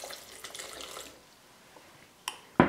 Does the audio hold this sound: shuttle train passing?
no